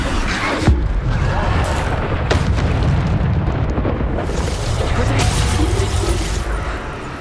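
Bombarda spell blasts in Hogwarts Legacy combat, a dense, loud, continuous roar of booming explosions and impacts with sharp bursts layered over rumbling low end.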